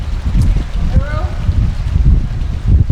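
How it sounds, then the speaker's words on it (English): Wind gusts roaring steadily at the bottom of a rocky Arizona canyon, a continuous low rumble buffeting the microphone, with people talking briefly over it. "It's windy down at the bottom."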